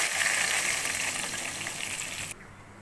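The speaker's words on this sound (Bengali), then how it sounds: "এবার পরিমাণ মতো জল এর মধ্যে দিয়ে দিলাম।" Water poured into frying mung dal in a hot pan hisses and sizzles loudly, a steady close bubbling hiss that cuts off abruptly near the end.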